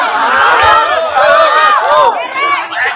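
A crowd of men at a sholawat gathering shouting and cheering loudly together, a dense, close wall of overlapping voices with swelling, wavering cries.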